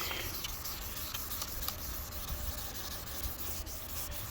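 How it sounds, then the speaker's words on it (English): Clear coat on a Honda Civic Si being sanded down by hand, a steady close rubbing and rasping that runs throughout at a moderate level, with no talking. "I just have to sand these down, straighten everything out, start buffing"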